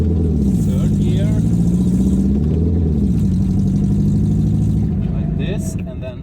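An old barn-find car in very poor condition, driven in third gear, its engine droning loudly and steadily with a low throbbing hum, easing off toward the end.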